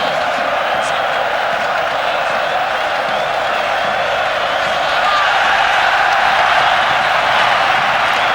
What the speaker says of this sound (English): the crowd almost taking the roof off this splendid stadium